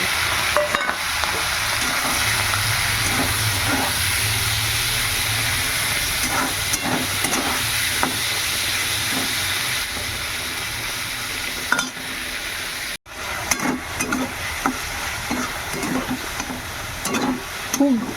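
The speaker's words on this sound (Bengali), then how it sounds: "এবার এগুলো তেলের মধ্যে দিয়ে দেবো।" Prawns coated in salt and turmeric frying in hot oil, a steady loud sizzle and hiss running throughout with occasional stirring clatter and a brief dropout near the end.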